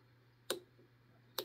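Two sharp, faint clicks about a second apart from a pin setting while a Brady 71/40 lock is picked, with a steady low hum underneath.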